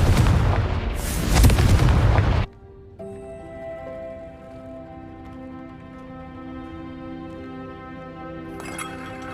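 A Confringo spell in Hogwarts Legacy sets off a loud, booming explosion that lasts about two seconds, then cuts to a quieter game ambience with a sustained tonal hum and a faint shimmer near the end.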